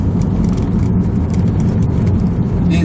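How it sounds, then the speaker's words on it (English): A Subaru WRX STI sedan rolls along on a test drive, a steady mid-pitched engine hum with road and tyre noise and a faint rattle inside the cabin. "It was time to take the WRX for a test drive."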